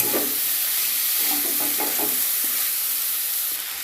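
Soaked red lentils are stirred into a sizzling spice paste in a pan, close scraping stir strokes over a steady frying hiss, with no talk.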